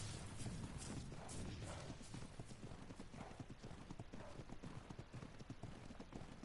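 Horse hooves clip-clop steadily in the Ark Ragnarok video game, a continuous walking rhythm over a dense background bed.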